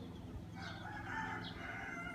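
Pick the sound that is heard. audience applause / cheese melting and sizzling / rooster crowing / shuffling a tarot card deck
rooster crowing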